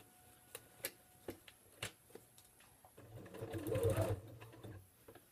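Sewing machine stitching fabric for a project envelope: sharp ticks from the needle at first, then a short steady whirring run of stitches, close and fairly quiet, no talk.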